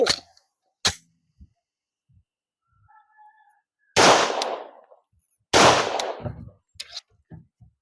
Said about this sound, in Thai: ยิงตู้เสื้อผ้า ที่มีเสื้อผ้า อยู่ห้าชุด ด้วย 11มม2 นัดบรรจุ